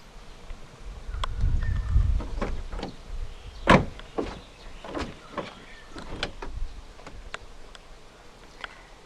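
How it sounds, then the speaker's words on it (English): Power windows on a 2011 Volkswagen Eos 2.0 TSI with frameless windows dipping as the door opens: a brief electric motor whir followed by a door clunk and scattered clicks, close and moderately loud. "The windows dip down a little bit as you open the doors to clear the door frame."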